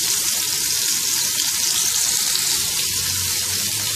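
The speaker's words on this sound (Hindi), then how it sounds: "और इसमें ये कबाब डाल के फ्राई करेंगे।" Mutton kebabs fry in hot oil with a steady, close broadband sizzle that holds evenly throughout, no voices present.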